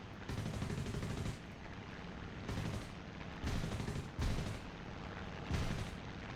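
A P-59A's 37mm cannon in the War Thunder video game fires a string of heavy booming shots in short groups over a steady engine drone, fairly faint.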